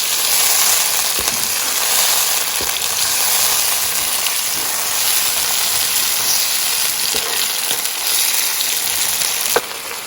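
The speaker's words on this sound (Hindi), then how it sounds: "इनको हल्का सा भूनेंगे ताकि अदरक लहसुन की स्मेल चली जाए।" Ginger and garlic sizzle steadily in a hot pan, a dense continuous frying hiss with a few faint stirring clicks, close and fairly loud with no speech.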